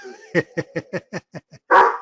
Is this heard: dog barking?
yes